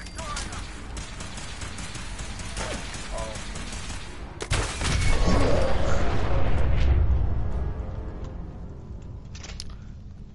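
Fallout 4 combat: scattered gunshots crackle under a talking voice, then a heavy burst of gunfire and booming blasts rises midway and fades into lingering rumble.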